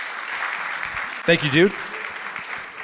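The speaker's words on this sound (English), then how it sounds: "Round of applause, please." Applause from an event audience for a legal sponsor at a Startup Grind gathering in Montreal, a steady broadband patter running throughout, with a man's brief spoken thanks cutting in near the middle.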